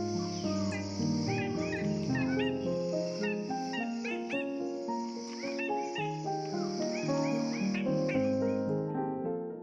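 Red bird of paradise in lowland rainforest on Waigeo and Batanta Islands, Raja Ampat, West Papua, giving a steady run of chirps and whistled calls over a sustained high insect-like drone, fairly close and continuous.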